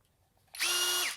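A Skil Flip cordless drill/driver in drill mode spins up abruptly from near silence to a steady, high-pitched motor whine that holds at full speed, then starts to wind down at the end.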